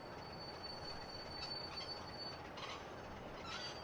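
A train braking to a stop in a train simulator on the Great Western Main Line, steady rolling rumble with high wheel squeals coming and going as it slows.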